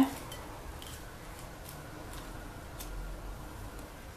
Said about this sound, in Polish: Rozsmarowujemy na naszej kromce.